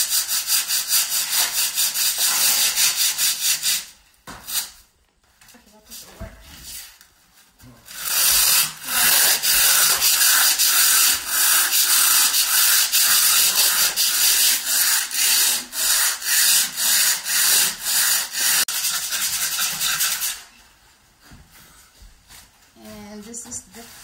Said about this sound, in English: Right now they're gonna sand it